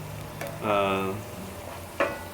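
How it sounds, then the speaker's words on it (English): Garlic sizzles steadily in hot oil, a soft continuous hiss, with a brief clink from stirring partway through. "30 seconds to a minute of sizzling until it just begins to color on the edges."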